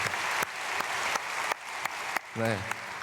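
A church congregation claps for middle and high school students during an early morning prayer service, moderate applause with a few sharp louder claps and a brief voice near the end.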